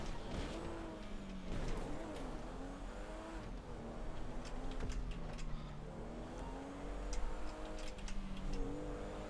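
A race car in a GTA V race revs at full throttle while drifting, its engine droning loud and continuous with rising and falling pitch sweeps and occasional tire noise.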